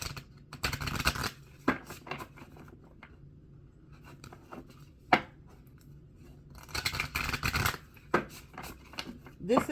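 Someone shuffles an Energy Spirit Oracle card deck by hand, with bursts of riffling, soft slides and taps of cards that come and go across the stretch, close by and fairly quiet, with no talking.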